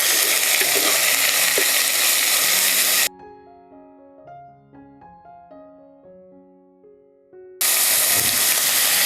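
Garlic, ginger and green chillies sauté in an oil-filled pan for a chicken stew, a loud steady sizzle that drops out midway for a few seconds of gentle music and then resumes.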